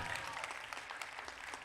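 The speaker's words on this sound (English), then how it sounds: "And now we give a round of applause to our graduates." Graduates at a Domínico Americano School class of 2021 ceremony receive a steady round of applause from the audience, dense clapping throughout with faint voices beneath.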